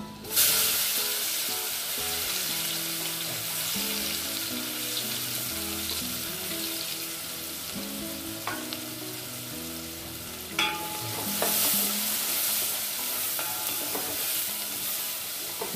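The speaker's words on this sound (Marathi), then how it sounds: "आता आपण कांदा छान परतून घेऊया 1-2 मिनिटं।" Chopped onion sautés in a pan for a Maharashtrian dried-shrimp, brinjal and potato curry, a steady close sizzle with repeated scrapes and clinks of a spoon stirring, louder bursts near the end.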